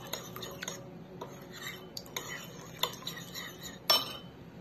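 Broccoli and chickpea salad being tossed with a mustard, honey and lemon sauce, giving soft wet stirring with light clinks of a utensil against a bowl, close and quiet, with a louder clink near the end.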